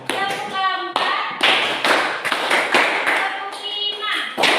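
A class of children claps in short rhythmic bursts, the sharp group claps falling in a counted pattern with brief pauses between them while a voice talks over them.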